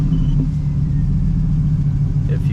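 A 1985 Chevrolet El Camino with an LS3 engine idling steadily, a deep low rumble held close and constant throughout.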